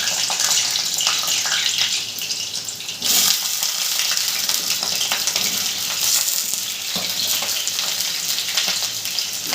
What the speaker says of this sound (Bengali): সর্ষের তেলটা গরম হয়ে গেছে, এরপরে দিয়ে দেবো কেটে রাখা পটলগুলো।